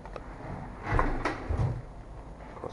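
A freezer door in an abandoned restaurant is pulled open, giving a couple of close, muffled thuds and a low rattle, with no speech.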